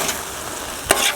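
Steak in teriyaki sauce sautés on a Blackstone griddle with a steady, soft sizzle, broken near the end by a brief, sharper burst as the meat is stirred or turned.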